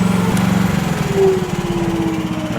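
Engine of a 1-ton Chinese mini excavator running steadily at close range with a buzzing, pulsing drone and a slight rise and fall in pitch, working in a woodyard.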